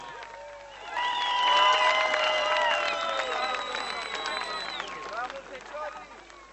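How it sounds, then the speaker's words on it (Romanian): Audience applause fills the hall of the Great National Assembly stage during a Romanian Language Day show. It rises suddenly and holds steady, with voices and cheering tones mixed in before fading toward the end. "Vreau să-l aplaudați și pe Andrei Oncea, care este pentru prima dată pe scena Marii Adunări Naționale"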